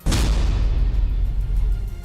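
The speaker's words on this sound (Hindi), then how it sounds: "फिर आग की लपटों के साथ एक जोरदार धमाका हुआ" A gas cylinder explosion blows apart a house amid flames, a single loud deep boom at the start followed by a long rumbling roar that stays heavy for two seconds, with no voices.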